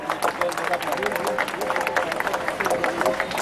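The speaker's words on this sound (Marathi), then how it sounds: "सगळ्यांनी एकदा टाळ्या वाजवून घ्या।" A crowd at a peace rally outside a police station clapping together: brisk, dense applause with cheering voices and chatter mixed in, close and sustained throughout.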